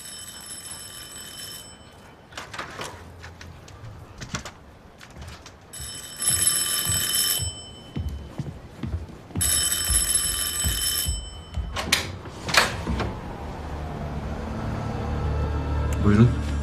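A telephone rings in bursts of repeated electronic trills, loud and close, with pauses between rings, while people talk and move around in an indoor scene.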